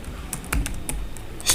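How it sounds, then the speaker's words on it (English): Rapid, uneven clicks of typing on a computer keyboard, close and clear, with a few firmer key strikes in quick bursts and no talking. "let me quickly type this and then explain to you"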